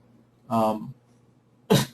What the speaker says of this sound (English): I had to cough there.